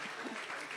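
An audience applauds with a dense, even wash of clapping that stays steady and fairly close throughout the brief moment.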